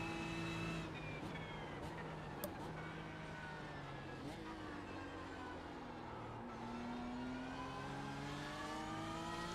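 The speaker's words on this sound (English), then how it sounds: "I still love the sound of that Porsche." A Porsche race car in a simulated endurance race passes with a steady, loud engine drone that rises and falls in pitch as it revs, with no pause across the stretch.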